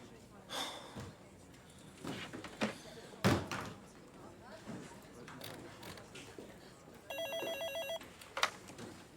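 A telephone rings in a short electronic trilling burst indoors, heard amid breathing and movement noises, with people talking briefly around it.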